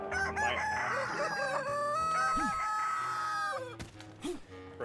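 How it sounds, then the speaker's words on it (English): Chickens in the video game ALT-F4: Chronicles of Pain crow and squawk loudly in a shrill, overlapping chorus, with a few scattered clucks trailing off at the end. "those chickens screeching at the beginning are loud"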